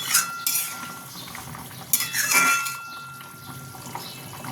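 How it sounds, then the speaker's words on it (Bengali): Pieces of fish go into a boiling potato and vegetable curry in a pan, giving a close splash and sizzle, then spoon scrapes and bubbling as the pot simmers, with no talking. "তরকারিটা ফুটে গেছে, এবার আমি এটাতে মাছ দেবো"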